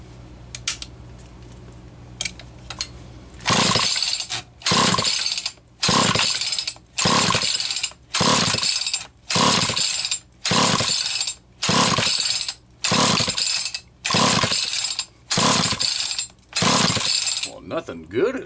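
A chainsaw with a Walbro SDC-1 carburetor and the choke on is pulled over again and again, about eleven loud, evenly spaced ripping starter-cord pulls with brief gaps between them, and the engine never catches.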